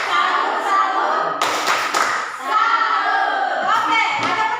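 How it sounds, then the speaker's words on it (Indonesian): A classroom group of teacher trainees claps a rhythmic 'tepuk salut' cheer routine, with distinct bursts of patterned claps mixed with voices chanting along, close and fairly loud. "Silakan kita berikan tepuk salut untuk kelompok 2"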